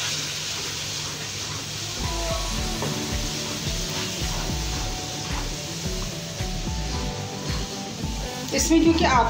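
Green chillies roast gently in oil with a homemade spice powder for Hyderabadi bhagari mirchen. A soft, steady sizzle runs under continuous talking, and a brief stir or scrape clatters near the end.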